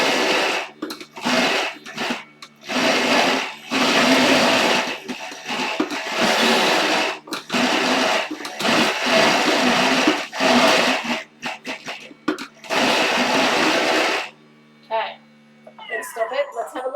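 A blender crushing ice and fruit for a two-ingredient sorbet runs in loud, harsh bursts separated by short pauses, then cuts off, leaving a quiet tail with a few small noises.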